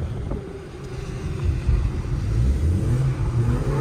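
A Toyota Yaris engine revs as the car accelerates hard on a dirt track, a low rumbling drone that swells and grows louder toward the end, close and continuous.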